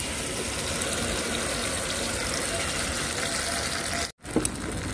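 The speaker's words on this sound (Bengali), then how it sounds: "মশলা ধোয়া জলটা দিয়ে দিলাম।" Water from washing spices is poured into a cooking pan, making a steady, close gushing splash that holds almost without a break and then cuts off briefly near the end.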